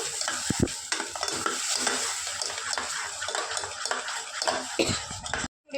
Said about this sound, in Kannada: ಇವಾಗ ರುಬ್ಬಿರೋ ಅಂಥ ಮಸಾಲೆನ ಹಾಕಿ ಎಣ್ಣೆಯಲ್ಲಿ ಚೆನ್ನಾಗಿ ಫ್ರೈ ಮಾಡ್ಕೊಳ್ಳೋಣ